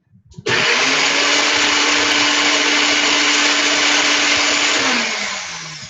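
A blender grinds hemp seeds into a fine meal. It kicks on abruptly with a loud, steady, high whirring roar that holds for about five seconds, then begins to wind down.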